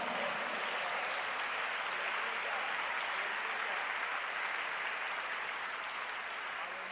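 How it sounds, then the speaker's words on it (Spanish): Church congregation at a Colombian-Ecuadorian convention breaking into sustained applause, a dense, even wash of many hands clapping from a large hall at a distance, steady throughout and slowly easing off at the end. "Un aplauso para el Señor."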